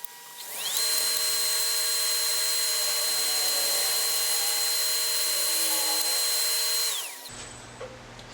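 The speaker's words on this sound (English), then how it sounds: "I'm probably just going to go ahead and hit it with a scraper instead of that 3/8 bowl gouge" A wood lathe spins a beech bowl while a scraper works the surface, giving a steady high whine that spins up, holds for about six seconds, then winds down and stops.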